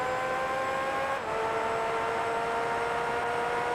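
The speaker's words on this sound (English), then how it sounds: "This probably sounds more like what an actual Formula 1 car is meant to sound like." A Lotus race car in Gran Turismo 3, its engine holding a steady high-pitched whine with a brief dip at a gear change, loud and constant with no talking.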